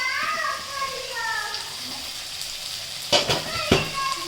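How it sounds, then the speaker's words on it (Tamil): Onions and spices sauté in a pan for lentil ball curry, a soft continuous sizzle under nearby talk, with two brief utensil clatters near the end. "இது வதங்கட்டும்."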